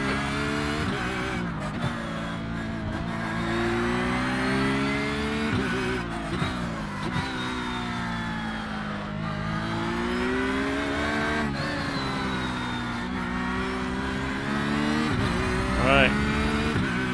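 Race car engines in iRacing's IMSA sim at Miami drone steadily and loud, with revs rising and falling through gear changes and another car's engine layered in as traffic closes.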